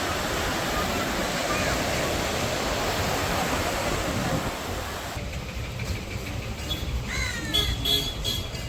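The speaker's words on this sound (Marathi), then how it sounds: "बऱ्याच मोठ्या लाटा तैयार होता है" Large sea waves breaking on a Kerala beach make a steady, close, roaring wash of surf. After about five seconds the roar thins, and faint tonal chirps and whistles ride over it.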